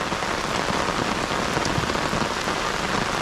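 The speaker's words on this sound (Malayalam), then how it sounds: "നല്ല മഴ ഇപ്പോൾ സ്ട്രോങ് ആയി പെയ്യുന്നുണ്ട്" Heavy rain on Munroe Island pours down in a dense, steady roar of drops striking surfaces, loud and close and continuous throughout, with no voices.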